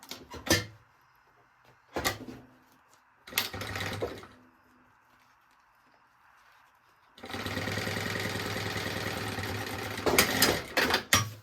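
Sewing machine stitching folded fabric binding on a baby organizer, with short bursts of stitching near the start followed by a longer steady run, close and clear, with no talking.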